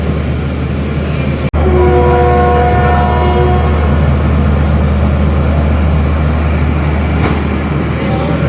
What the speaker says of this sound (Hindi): छोटा सा ही स्टॉपेज है जी, ओनली फॉर 1 मिनट्स। विसल हो गया।